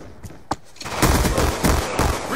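Beretta 23 three-round burst pistol in Black Ops 2 fires in loud, close, rapid bursts, with a couple of isolated shots first and then dense overlapping gunfire.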